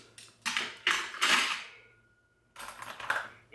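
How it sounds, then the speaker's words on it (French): Metal spoons clinking as a dishwasher is unloaded: a few bright, close clattering bursts of cutlery, then a short pause before another cluster of clinks, with no talk. "J'ai des cuillères, comme ça, quatre cuillères, j'espère que j'ai quatre cuillères"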